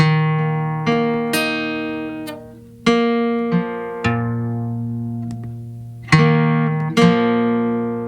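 Plucked three-note guitar chords ring out one after another at an unhurried pace, each strum sustaining and decaying before the next, close and clear.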